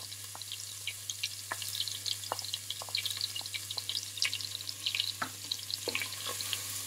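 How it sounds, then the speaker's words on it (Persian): Diced onions sauté in melted butter, giving a soft, constant crackling sizzle with scattered light taps and scrapes of stirring, fairly quiet and with no one talking. "کره که ذوب شد، میایم پیازی رو که نگینی خوب کردیم رو بهش اضافه میکنیم."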